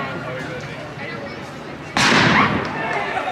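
A cannon booms at a Disneyland show in Critter Country, one sudden loud blast cutting through steady background murmur and decaying into a rumbling tail.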